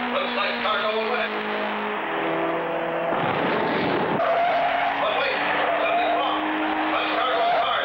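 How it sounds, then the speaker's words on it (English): A cartoon race car screeches its tires as it rounds a racetrack, with a droning engine tone and a burst of skidding noise in the middle, all under a sustained musical score. "As Clutch's car number 5 comes around"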